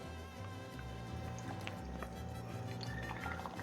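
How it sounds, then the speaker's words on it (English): Milk (2%) pours steadily into a pan, a soft continuous trickle with faint drips over a low background hum. "Now we're gonna add some milk."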